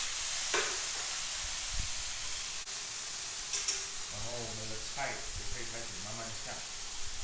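Straw mushrooms, bamboo shoots and other vegetables sizzle and hiss in a hot wok for Buddha's Delight, a steady frying noise with stirring scrapes while a person talks over it.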